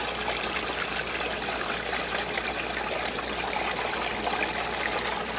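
A water pump sprays and spits water out of its top, making a steady, even splashing rush that runs unbroken at moderate level, with no talking.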